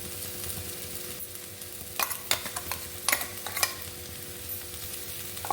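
Sirukilangu stir-fry with freshly ground coconut gets mixed in a pan, a low background sizzle broken by several sharp scraping strokes of a spoon against the metal, close and fairly quiet.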